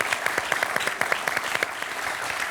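A TV quiz show studio audience applauds a contestant's score, with brisk, rhythmic clapping that stays steady throughout and is heard alone.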